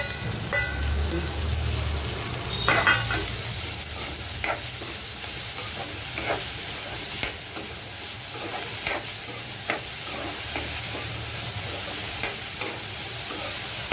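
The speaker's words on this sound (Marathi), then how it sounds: "तर हे चांगलं असं भाजून घ्यायचं, म्हणजे ब्राऊन झालं पाहिजे ना।" Food fries in a pan on a gas stove as it is stirred until brown, a constant close sizzle with periodic spatula scrapes and taps against the pan, and a low hum underneath.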